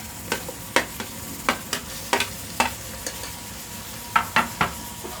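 Tomatoes cooking for a chickpea curry in a pan, a soft steady sizzle under repeated sharp clinks and taps of a utensil stirring against the metal, no speech.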